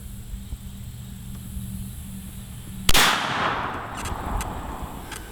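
A single sharp shot from an Umarex ARX Speedbelt .50 caliber air gun loaded with a 50-grain charge, loud and close, with a brief decaying tail after a quiet lead-in.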